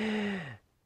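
A saxophonist's shallow, high chest breath: one quick breathy intake with a faint voiced whistle-like tone that slides downward and fades in under a second, close and alone.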